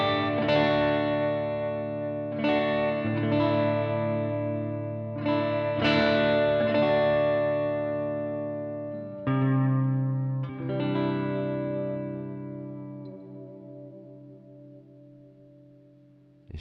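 Clean electric guitar with its distortion switched off, a large guitar, strummed chords ringing out with sustained harmonics and several fresh attacks, decaying toward the end, played alone without talk.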